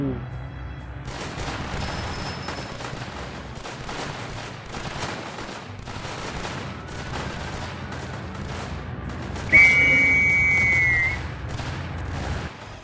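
Soldiers fire guns in the tower defense game Northend Tower Defense, a dense, continuous fusillade of rapid shots with a brief whistling tone near the end.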